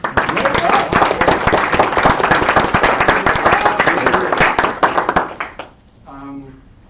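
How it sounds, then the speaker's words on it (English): Staff audience applauding at an all-staff meeting, loud sustained clapping that cuts off sharply near the six-second mark, followed by a speaker's voice. "So you can give yourselves a round of applause."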